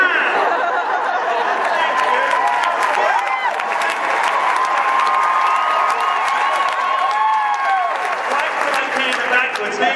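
A large crowd at an equine expo claps and cheers for a horseman cantering his horse backwards, with sustained, loud applause, scattered whoops and chatter throughout, and no break in the noise.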